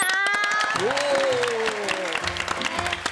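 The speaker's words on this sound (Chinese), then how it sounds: "来，本师傅一个掌声。" An audience claps for a chef on a cooking show, a dense burst of applause with some cheering while people speak over it.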